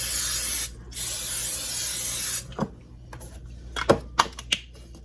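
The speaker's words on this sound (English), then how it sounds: "I'm just going to spray it with a little cooking spray" Cooking spray hisses in two bursts with a brief break, followed by light scraping and tapping sounds.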